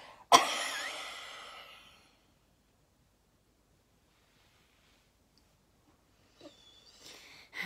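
A single sharp cough bursts out after a held breath in a breathing exercise, followed by a fading exhale, a long quiet stretch, then soft breathing noises near the end.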